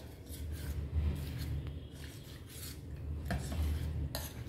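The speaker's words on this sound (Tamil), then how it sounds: "கட்டி இல்லாம இந்த மாதிரி கலந்துடுங்க" Grain flour mixture being stirred into water in a pot, a steady close scraping and rubbing of utensil against the vessel, with no voices.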